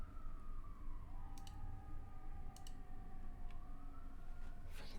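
Emergency vehicle sirens wail outdoors from some distance, a long rising and falling tone running the whole time over a steady low background rumble, with a few faint clicks.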